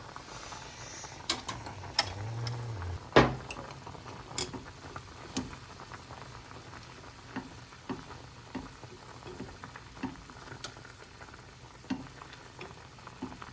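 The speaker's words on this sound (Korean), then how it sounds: "확실히 냄비가 좋으니까 끓는 것도 빨리 끓여." Liquid bubbles and sizzles in a cooking pot with enoki mushrooms, a continuous close hiss broken by scattered sharp clicks and clinks of a utensil against the pot.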